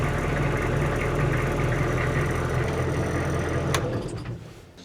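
A military Humvee engine idles steadily in low range, a loud, close, continuous rumble that dies down near the end.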